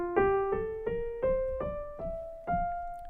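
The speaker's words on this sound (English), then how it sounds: "F Ionian sounds like this." An F Ionian scale rising step by step, seven clearly separated notes with a bright harmonic tone, each struck and decaying, moderately loud and close, the final note held slightly longer.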